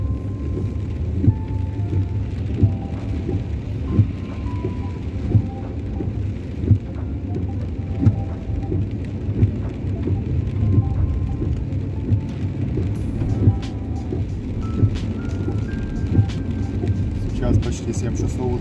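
Heavy rain pours down during a days-long downpour in Jerusalem, drumming steadily on a moving car alongside a low road and engine rumble, with a person talking over it throughout.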